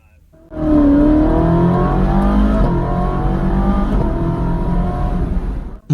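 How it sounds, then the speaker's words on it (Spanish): A Ferrari 458 Speciale's engine and exhaust accelerate hard, revs climbing in a sustained, loud, close roar with rising tones across several seconds before cutting off. "El escape no suena mucho hasta las 3000 revoluciones o hasta que le pisas a fondo, pero cuando lo hace es agresivo."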